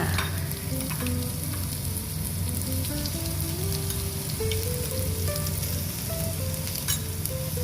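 Minced pork sizzles and fries steadily in a pan for Thai stir-fried pork with Chinese kale, a dense continuous crackle with no talking.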